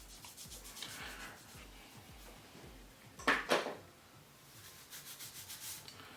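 Wig glue being rubbed in by hand during a frontal wig install, giving soft, faint rubbing and brushing strokes, with a brief louder pair of scuffs near the middle, close up and without talking.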